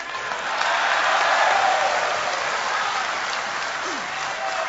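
Sustained audience applause at a political talk in Malaysia, a dense continuous wash of clapping that stays steady and loud throughout with no speech over it.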